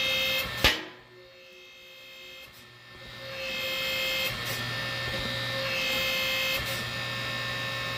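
A hydraulic press squeezing the end of a drill pipe clamped in a jaw for a bale feeder, a steady mechanical whine and hum that rises after a sharp clank and holds, close and moderately loud, with no speech.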